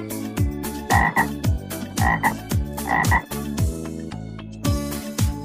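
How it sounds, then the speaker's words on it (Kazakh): A frog croaks in a steady, rhythmic series of loud, close, throaty calls, repeating many times with no other sounds. "Бақа."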